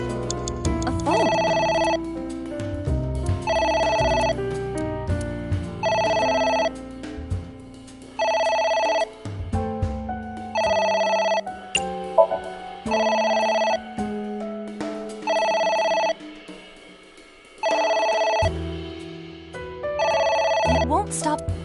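A telephone rings repeatedly in a video game, about nine evenly spaced bursts of bright, trilling bell tones over a low game background, fairly loud and steady, with someone talking briefly at times.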